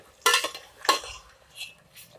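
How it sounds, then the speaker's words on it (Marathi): A metal spoon scrapes and clanks against a large cooking pot while yogurt masala is stirred for chicken korma. Two sharp knocks are followed by softer scraping and faint clinks. "कारण आपल्याला सारखं हलवत राहायचं आहे."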